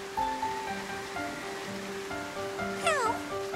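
A single short, high cartoon kitten meow near the end, heard over a soft, steady backdrop of music and patter.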